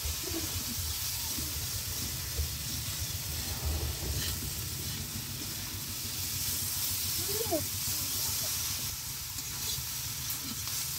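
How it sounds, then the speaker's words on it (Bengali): Onions frying in a pan while fish and okra are cooked, giving a steady, close sizzle and hiss that runs the whole time, with a low background rumble and faint voices. "পেঁয়াজ পুড়িয়ে যাচ্ছে"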